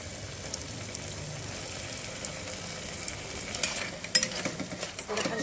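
Tomato sauce fries in oil in a pan while being stirred for restaurant-style pasta. It gives a close, steady sizzle with soft scraping and clinks from the stirring that grow a little louder toward the end, and nobody speaks.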